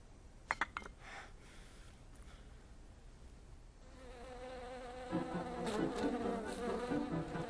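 A bee buzzes in a Hindi drama scene, starting faint and growing louder and nearer over several seconds, with a few sharp clinks near the start.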